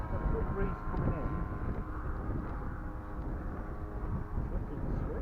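An Edge 540 RC model airplane from 3DLabprint throttles up on a landing approach, its engine droning steadily beneath a steady breeze and wind noise on the microphone, with people talking close by.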